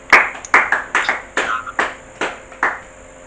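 Congregation clapping at a French-speaking church worship service acclaiming Jesus, a loose burst of about nine uneven claps in quick succession, fairly close and clear with no talk over them.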